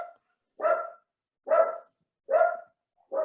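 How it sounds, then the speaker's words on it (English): A domestic dog barks four times in a steady, evenly spaced rhythm, each bark loud and close, with quiet gaps between them and no voices. "Sorry about the dog."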